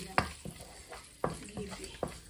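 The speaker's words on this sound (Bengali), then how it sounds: "এখানে আমি ঘি 1 চামচ, 2টা তেজপাতা, 4 টুকরা দারচিনি, 3টা এলাচ দিয়ে নিয়ে বেজে নিলাম" Bay leaves, cinnamon pieces and cardamom pods frying in a spoonful of ghee, heard as bursts of stirring scrapes over a light sizzle, close and fairly loud with no talking.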